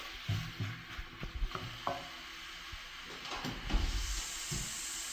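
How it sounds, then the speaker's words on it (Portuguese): Ground beef sautéing in a pan for pancake filling, a steady close sizzle and hiss with repeated scraping and clanking of the spoon stirring through it, no voices. "Aí aqui é só refogar agora a carne moída."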